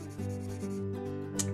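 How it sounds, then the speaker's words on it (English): A pencil being sharpened while drawing, a short continuous grinding rasp lasting under two seconds, close and fairly loud over a steady background hum. "Sharpen this one more time."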